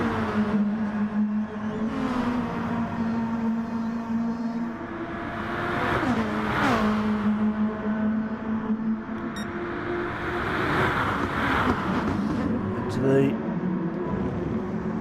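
Lexus RC F race cars circle a racing circuit as engines drone and rise and fall through a hairpin and corners, heard in the distance beneath continuous commentary.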